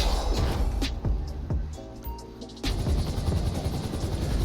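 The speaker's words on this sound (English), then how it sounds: "I did happen to find a lucky helicopter at one of the airfields" A helicopter in a video game roars loudly with a dense rotor and engine drone, briefly dipping before surging back, with sharp gunfire-like cracks mixed into the steady whine.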